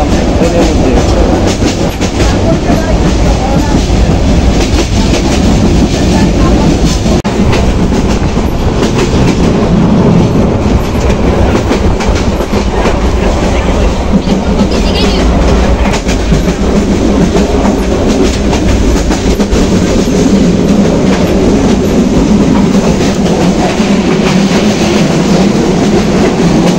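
A passenger train travelling from Sylhet to Dhaka rumbles steadily throughout, with continuous wheel clatter and carriage noise close and loud, no voices.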